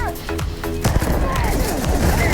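An Old Earth shotgun fires in the video game Starfield, several sharp, heavy blasts in quick succession with booming tails, layered over busy game effects while someone talks over the action.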